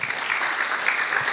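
A youth church congregation claps for a young participant named Jotam, giving a steady, dense wash of applause throughout the short moment.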